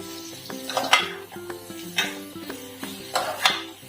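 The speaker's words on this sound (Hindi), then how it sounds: "अब हम मसाला जार को यहाँ अच्छी तरह से लौकी के साथ मिक्स कर दिए" Bottle gourd being stirred with spice mix in a pan, with a steady stir of scraping strokes and soft clinks, a faint sizzle and tonal hum running beneath.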